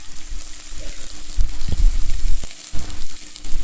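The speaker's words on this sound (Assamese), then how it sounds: "এতিয়া মই পিঁয়াজখিনি 4 মিনিটমান ভাজিম" Chopped onions fry with cardamom in oil in a kadai, making a close, fairly loud sizzle broken by stirring knocks and bursts of spattering.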